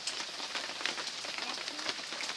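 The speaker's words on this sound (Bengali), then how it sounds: "কিরম বৃষ্টি পড়ছে দেখুন" Rain falls steadily in a soft, even patter of many small drops, heard on its own with no talking.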